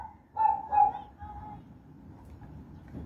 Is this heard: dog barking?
yes